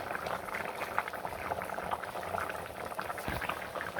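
Curry bubbling and simmering in a pot over a fire in a village kitchen, a steady close crackle of boiling liquid with no one speaking.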